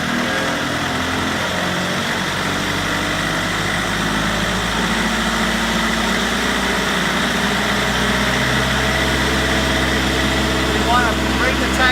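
The diesel engine of a US Jetting Jetvac 4018 truck with a 40-inch high-lift tank drones steadily and loud throughout, its tone slowly rising as the RPM is brought up, with talk over it.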